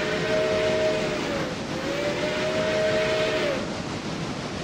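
Train whistle in the Railroader video game: two long, steady multi-tone whistle blasts, loud and close, the second slightly longer, over the continuous rumble of the moving train with no talking.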